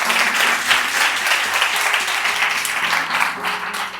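Loud, sustained applause from a large audience, dense clapping that rolls on continuously and tapers slightly near the end.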